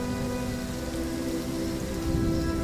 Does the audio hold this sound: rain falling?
yes